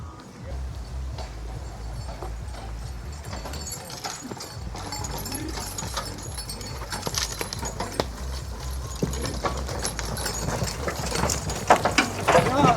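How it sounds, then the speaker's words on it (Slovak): Swedish Ardennes and Polish warmblood horses at a rural carting race, hooves clip-clopping steadily on hard ground, close, under ongoing talk and crowd noise. "Jeden je švédsky Arden a druhý poľský živnokrvistý kúň."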